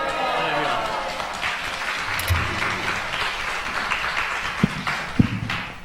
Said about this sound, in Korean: 우리 박수로 맞이하시겠습니다